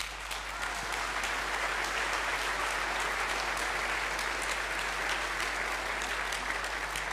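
Steady, dense applause from a large conference audience at FOSDEM 2017, sustained and even throughout with a constant low hum beneath it.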